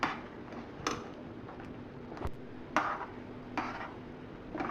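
Coconut powder being stirred into a dish with a spoon, giving faint, irregular ticks and soft scrapes against the pan over a quiet background.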